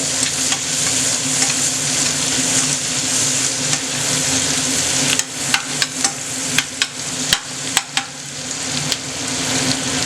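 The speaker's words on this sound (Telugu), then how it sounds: "ఒక చిన్న ఉల్లిపాయ తురుము వేసి గోల్డెన్ కలర్ వచ్చేదాకా బాగా వేయించుకోవాలి." Grated onion frying in butter in a pan, a steady close sizzle with sharp spatula taps and scrapes against the pan in the second half.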